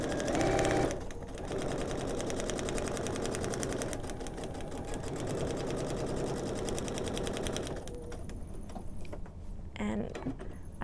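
A sewing machine stitches quilt pieces with a fast, continuous mechanical whir and rhythmic needle ticking, heard close by at a steady pace for most of the span.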